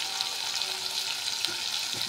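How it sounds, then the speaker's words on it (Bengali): Beef being sautéed with water in a pot, a continuous bright bubbling sizzle with occasional soft stirring knocks, close and steady. "মাংস পানি দিয়ে দিয়েছি, দেখুন কষাচ্ছি।"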